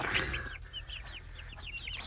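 Faint, high chirping and peeping from young chickens, scattered and overlapping, with a low hum of background noise.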